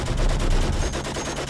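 Sustained burst of heavy gunfire from dozens of twin guns in a tower firing at an armored Cadillac, a dense continuous rattle of shots heard alone as an audiobook sound effect.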